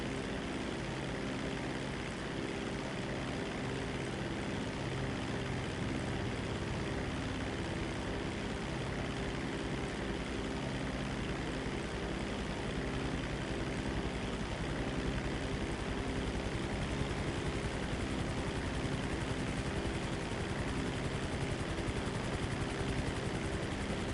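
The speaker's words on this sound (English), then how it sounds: "It's a fast assault strike vehicle. It is basically like a super helicopter almost." A fast helicopter-like assault strike vehicle flying in GTA 5 gives a steady, loud rotor-and-engine drone that holds unbroken throughout, with no talk over it.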